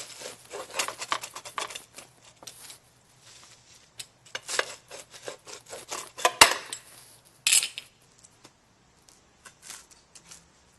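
A crispy salumi pizza with leathery, thick-cut Toscano and other cured meats, baked slower and cooler, is sliced with a series of crackling, scraping cuts in bursts, a sharp snap midway and a brief rasping pass near the end, with no talking.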